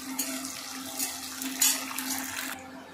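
Bengal gram frying in hot mustard oil in a wok, a steady close sizzle with brief swells as the lentils are stirred, ending in a quieter tail.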